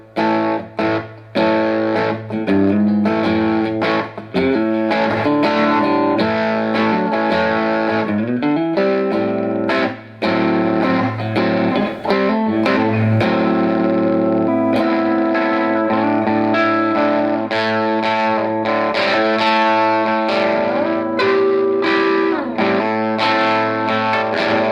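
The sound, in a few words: electric guitar through Joyo US Dream distortion pedal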